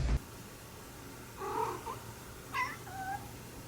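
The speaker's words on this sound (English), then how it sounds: "Cat! Nearly gave me a heart attack." A cat cries out in a movie scene: a sharp thump, then a drawn-out yowling meow and a second wavering call, close and clear over a low background hum.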